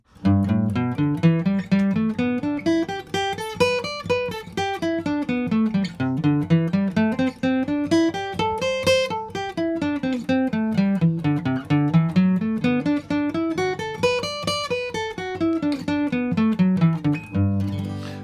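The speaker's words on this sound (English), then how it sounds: "now we're playing 3 major pentatonic scales while moving across the fretboard on each" A guitar plays quick, even runs of major pentatonic scales climbing up and down across the fretboard repeatedly, each pass rising and falling in a steady wave.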